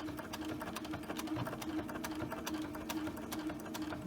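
A sewing machine runs a back stitch while sewing a small drawstring bag, giving a steady, rapid, close-up mechanical whirr that continues unbroken with no talking.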